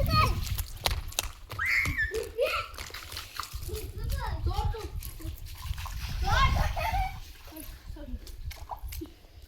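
A young child splashes about in rainwater pooled on a rooftop terrace, making repeated uneven slaps and splatters at close range while children's voices and an adult's talk run over and between the splashes.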